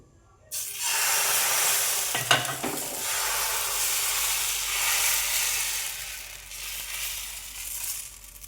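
Roti batter sizzling loudly in an oiled pan, a sudden burst of frying hiss that stays steady and close, with a brief clatter of stirring near the start.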